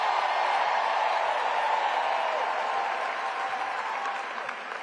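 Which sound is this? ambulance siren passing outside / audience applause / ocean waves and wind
audience applause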